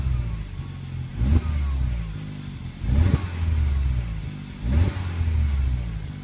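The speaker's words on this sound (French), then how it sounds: "C'est qu'on entend beaucoup le moteur, mais pas beaucoup la sonorité arrière." A Peugeot 308 GTI with THP engine revs in repeated bursts, three sharp throttle blips rising over a low, steady idle, heard close from the engine side rather than the exhaust.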